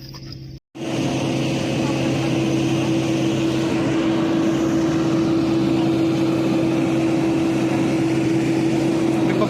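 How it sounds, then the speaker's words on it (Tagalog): Propeller airplane engine droning steadily and loudly at an airport on a Manila-to-Coron connecting flight route, a sustained hum with a strong tone after a brief cut near the start. "ibang eroplano"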